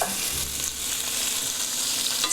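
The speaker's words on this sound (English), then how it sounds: "when you hear that beautiful sizzle" Shrimp sizzling steadily in a hot pan, a bright continuous crackle and hiss close by, with no voices.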